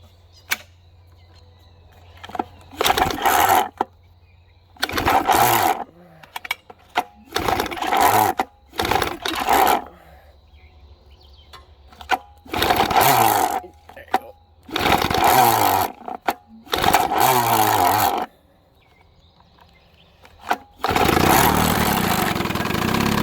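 A 1961 Johnson 10 hp tiller outboard boat motor is pull-started several times. It sputters in short bursts separated by quiet gaps, then finally catches and runs steadily at the end.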